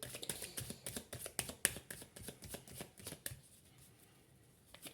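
Tarot cards are shuffled for a reading, giving rapid rhythmic riffling and flicking bursts that are close but soft, fading quieter toward the end, with no talking.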